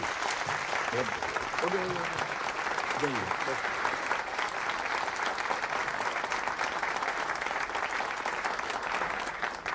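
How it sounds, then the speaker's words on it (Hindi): Classroom audience clapping loudly and continuously for about ten seconds, a dense sustained patter with a few brief voices calling out near the start. "ताली बजाइए जोर से आप लोग"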